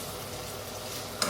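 Keema and bitter gourd frying in ghee and oil in a pan, a steady close hiss of sizzling with a brief stir or clatter near the end, no talking.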